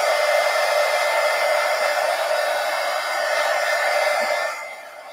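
A hair dryer blows a steady, close, loud whoosh over freshly glued pages of an altered book, running alone before easing off near the end.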